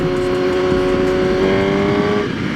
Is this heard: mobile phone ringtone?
no